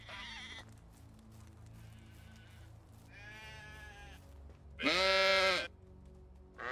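Sheep bleat in the farming game Medieval Dynasty, several separate calls with quiet gaps between them. The last call is the loudest and longest, and a low steady hum sits underneath.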